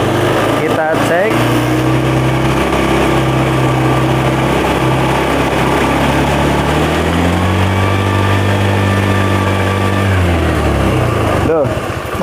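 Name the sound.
Honda Beat FI motorcycle engine running after restart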